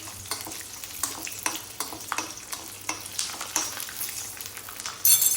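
Onions frying in oil for a red chickpea dosa chutney, with a constant sizzle broken by repeated, fairly regular scrapes and stirs of a spatula in the pan; no voices.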